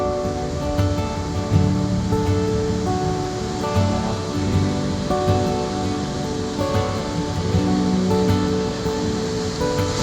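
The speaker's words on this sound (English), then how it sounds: "Super pretty with the babbling creek going down through it." Babbling creek running through a forest in Cypress Park, Vancouver, giving a steady, full rushing and splashing of water that continues evenly without any voices.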